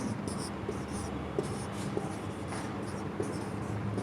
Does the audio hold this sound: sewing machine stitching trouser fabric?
no